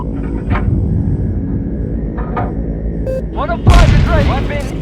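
A 105 mm cannon shell being reloaded in the video game Angel of Death: sparse metallic clanks and latching sounds, then a heavy boom near the end, with voices talking over it.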